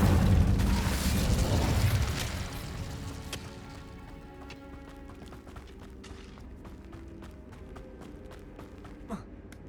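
Incendio fire spell cast in Hogwarts Legacy, a loud roaring whoosh of flame at the start that fades over a couple of seconds into quieter clicks, ticks and faint crackling.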